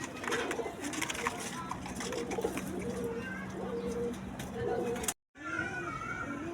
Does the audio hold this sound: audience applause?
no